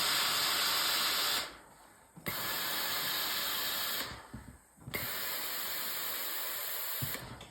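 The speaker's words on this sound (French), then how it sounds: "Et je vais repasser avec de la vapeur." A steam iron pressing sewn fabric gives off loud bursts of hissing steam, three long sprays separated by brief pauses with faint handling thumps in between.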